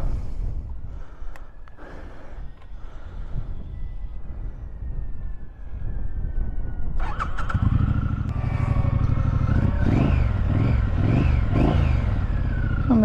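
A 2024 Triumph Scrambler 900 motorcycle engine idles quietly at first, then fires up midway and revs repeatedly in loud rising and falling surges, close to the microphone.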